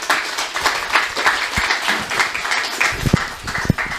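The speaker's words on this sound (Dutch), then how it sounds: "Een applaus voor de mensen alvast." An audience applauds at a presentation on mercury pollution, with a steady, dense wash of clapping that lasts the full four seconds and has a few louder claps near the end.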